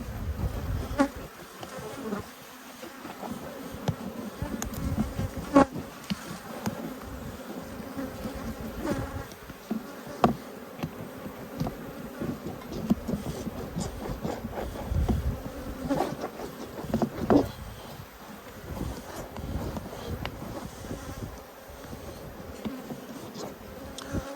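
A steady swarm of bees hums and buzzes throughout, with occasional knocks and rustles close by as plastic hive frames are handled, and no speech.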